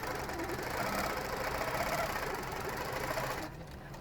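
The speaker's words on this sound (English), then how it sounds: "And then we're going to stitch out." Sewing machine running steadily as it stitches fabric along a quilting ruler fitted with a grip, a dense close whirring hum that holds for several seconds before easing off near the end.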